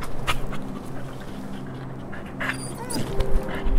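A dog whimpering and panting close by, with soft breathy pants and a few high whines, followed by a rising scrape of movement; other background sounds run beneath.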